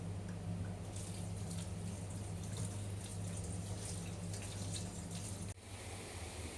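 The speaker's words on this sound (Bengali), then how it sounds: "এখন আমি বেগুন ধোবো" Tap water runs steadily into a sink while an eggplant is washed under it, a close continuous splashing with a brief dip near the end, no voices.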